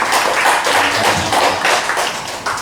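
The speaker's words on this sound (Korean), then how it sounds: "대표도 박수 한번 쳐드립시다." A congregation at a Wednesday worship service applauds, with steady, dense clapping that carries on evenly for a few seconds. A voice briefly says thanks over it.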